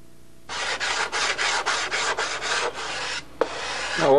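Rhythmic rasping strokes of sandpaper on wood, about ten quick back-and-forth passes, close and steady, ending with a light knock.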